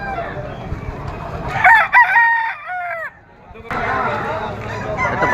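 A Gilmore bull stag gamecock crows loudly and close by at a market, a single drawn-out cock-a-doodle-doo with a falling tail, set against a noisy background of people talking and other birds clucking.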